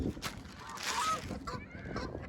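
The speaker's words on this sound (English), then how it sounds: "The geese then came over here and shut everything down." Geese honk nearby in several loud, raspy calls, overlapping and close, with no talk between them.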